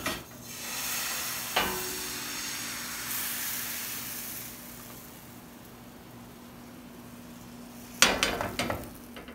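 A crepe fries in an oiled pan on high heat with a steady soft sizzle and hiss, broken by a few sharp clatters of utensils against the pan, and no talking.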